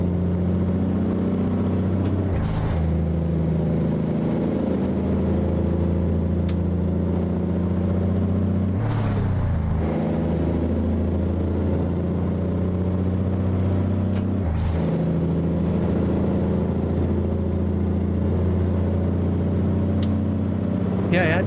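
Air brakes on a W900 dump truck with a Cummins engine in American Truck Simulator hiss sharply three times over the steady, loud drone of the diesel idling beneath.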